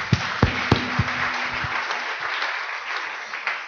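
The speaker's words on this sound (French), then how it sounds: "Applaudissons pour le Seigneur." Church congregation applauding during a worship service: a dense, close wash of clapping, with a few heavier claps and thumps early on, a low sustained tone underneath, and the applause continuing steadily to the end.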